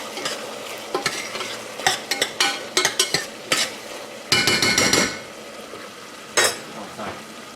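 Beef ribs fry with garlic and Worcestershire sauce in a pan, a constant sizzle broken by repeated scraping and clinking of a utensil stirring, with a louder burst of sizzling midway.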